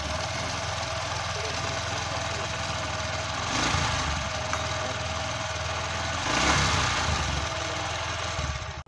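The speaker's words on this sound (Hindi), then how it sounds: "यहाँ पे आप इंजन की आवाज़ सुन सकते हो" A 2024 Honda SP125 motorcycle in matte grey idles steadily and close by, its low engine hum continuous throughout with two brief swells partway through and no talking.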